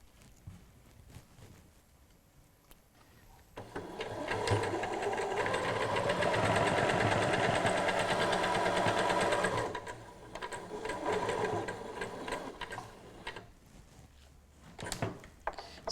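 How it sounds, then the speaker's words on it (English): A sewing machine stitches around a cushion edge to hold a bow in place, starting after a quiet pause and running in a steady, close mechanical hum, then a shorter second burst with light handling noises around it. "I'm going to just stitch around that outside edge to catch the bow in place"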